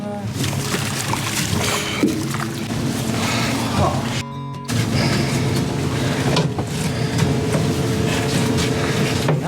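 An electric motor on a kayak drives it along the Colorado River through a storm, a steady close droning hum mixed with wind and water noise, and a brief dropout partway through.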